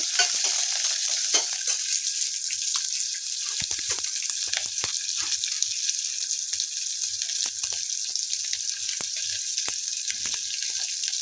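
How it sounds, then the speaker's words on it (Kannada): Garlic frying in hot oil in a pan for a lentil dal, a steady bright sizzle that carries on without a break, with scattered light scrapes and clinks as it is stirred. "ಬೆಳ್ಳುಳ್ಳಿ ಹಾಕ್ತಾ ಇದ್ದೀನಿ. ಒಂದ್ಸಲ ಬಾಡಿಸ್ಕೊಳ್ಳಿ."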